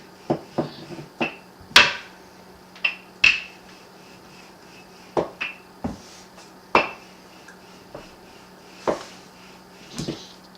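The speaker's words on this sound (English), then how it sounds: "Then you get your rolling pan and flatten it out until it's nice and thin." Tortilla dough being flattened with a rolling pin on a floured surface, heard as a steady run of sharp knocks and taps every second or so, close and crisp, with no voices.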